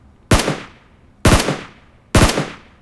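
Three loud, sharp gunshots from PUBG Mobile, each a single close crack with a short decaying tail, spaced about a second apart with no talk.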